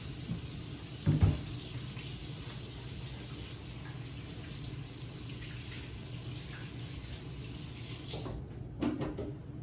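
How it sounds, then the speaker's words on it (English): Tap water runs steadily into a kitchen sink while hands are washed during baking, a soft continuous hiss with a couple of louder splashes near the start and end. "Let me wash my hands real quick."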